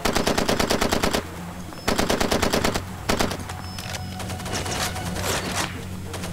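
Rapid bursts of machine gun fire in the shooter game Far Cry 2, with several long rattling volleys separated by short pauses, then scattered shots and lingering gunfire in the background.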